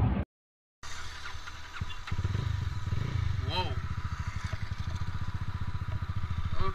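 Mahindra Mojo 300 motorcycle engine running on a group ride, a steady loud rumbling thrum after a brief dropout, with a passing tonal sweep over it.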